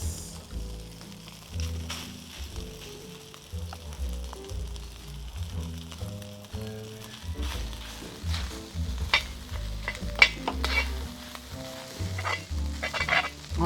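Garlic fried rice sizzles in oil while a spatula scrapes and breaks up the crust stuck to the pan, uneven repeated scraping strokes over a steady close crackle, with no talking.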